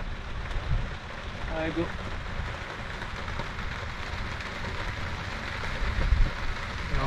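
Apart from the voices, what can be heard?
heavy rain falling on a golf course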